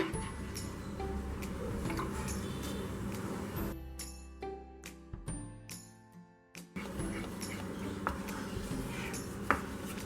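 A spoon stirring a wheat flour halwa mixture in a pan on the stove, giving soft repeated scraping and light clinks against the metal, steady apart from a short pause midway.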